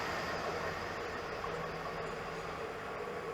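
Train passing Hitchin station on the East Coast Main Line, a steady broad rumble with a sustained hum, fairly distant and even throughout, no voices.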